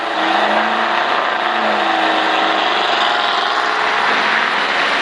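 Race car engine at Daytona Speedway, a loud continuous roar held at steady throttle throughout, close and unbroken, with no talking.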